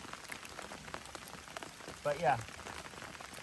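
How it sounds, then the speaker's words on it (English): Steady rain patters onto a lakeside tarp camp during a prolonged storm, a soft, even hiss that runs throughout, with a brief close voice speaking near the end. "literally in the rain, with the rain coming down"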